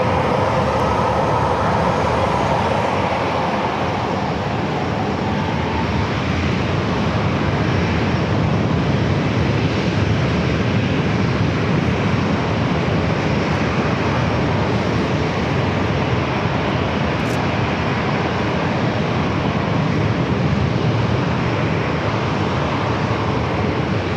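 An airliner takes off from San Diego airport's single runway, its engines a continuous broad roar that stays loud and steady throughout, heard from nearby.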